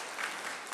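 Church congregation clapping together during a Sunday worship service, a brief dense wash of steady applause at moderate level, with no voices over it.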